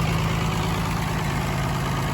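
An old farm tractor engine idles steadily, a loud, close, continuous low rumble with even chugging throughout and no voices.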